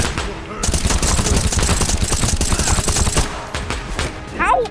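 Rapid automatic gunfire from the video game Battleglide rattles in a dense, loud burst lasting several seconds, then thins to a few scattered shots and game effects near the end.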